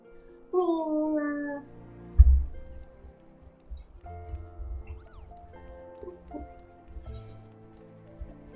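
A cat lets out a clear, drawn-out meow at close range, followed by quieter rustling, bumps and faint tonal background sounds.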